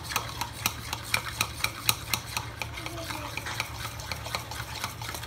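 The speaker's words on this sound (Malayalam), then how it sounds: "ഒരു മുട്ട എടുക്കാം. നന്നായി ബീറ്റ് ചെയ്യാം." One egg is beaten in a bowl, making quick, regular clicking taps of a utensil against the sides at close range, fairly quiet and with no voices.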